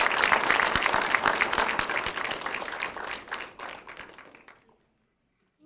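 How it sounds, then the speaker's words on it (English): Audience applause at a children's reading center event, a dense burst of many hands clapping that thins out and stops abruptly after about four and a half seconds. "Let's give everybody another round of applause"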